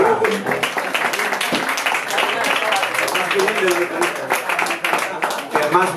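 Live audience applause for a guitarist at a band concert in a venue, dense steady clapping running the full length alongside a talking voice.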